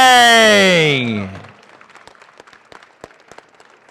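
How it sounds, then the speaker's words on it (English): Applause for a gold medal winner at a collegiate raw powerlifting nationals, coming in faint and scattered after a loud, drawn-out voice calling out over the hall. "A big round of applause for Peter"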